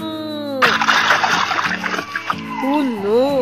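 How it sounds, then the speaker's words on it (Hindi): A cartoon auto rickshaw plunges into water with a loud splash and sloshing, followed by lingering splatter, with a voice talking over it and cartoon music playing beneath. "ओ नो ऑटो रिक्शा भी पानी के अंदर गिर गया।"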